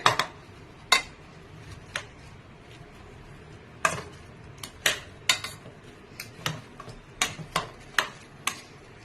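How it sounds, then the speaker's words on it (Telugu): Cooked vegetables for pav bhaji being mashed in a pot, with a metal masher striking the vessel in irregular sharp knocks, about fifteen clanks spread through the clip over a quiet background. "ఇప్పుడు ఇవి నలిపేసుకుంటానండి బాగా మెత్తగా"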